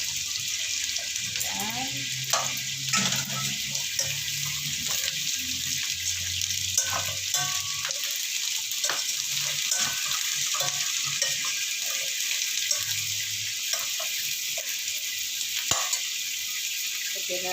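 Papaya simmers in coconut milk in a pan, a steady bubbling sizzle with stirring and clinks, while someone briefly speaks over the cooking.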